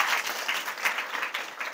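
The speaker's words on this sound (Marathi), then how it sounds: "जोरदार एकदा त्या विद्यार्थ्यांसाठी टाळ्या वाजवा" Audience applause at a school speech competition, a dense burst of clapping from a crowd filling the hall, steady and fairly loud with no talk over it.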